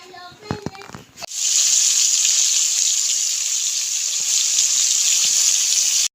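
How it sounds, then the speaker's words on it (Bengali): Pointed gourd (potol), coated in salt and turmeric, dropped into hot oil in a kadai: a few handling clinks, then a sudden loud, steady sizzle that continues close up until it cuts off abruptly. "এই পটলগুলো এখন ভাজবো"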